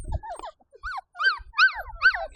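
Five-week-old puppies whimper and yip in a string of high, rising and falling cries, with soft low rustling in between; close and fairly loud, with no talk.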